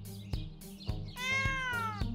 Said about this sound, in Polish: Miau! Kotek również chce być niegrzeczny.